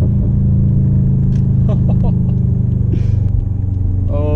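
A straight-piped 2013 Subaru WRX exhaust drones in a steady, loud, low rumble at cruising pace, continuous throughout with faint brief sounds over it.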